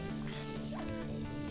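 A pet dog in Minecraft gives a short yip or bark, brief and fairly close, over a steady background of game music and ambient hum.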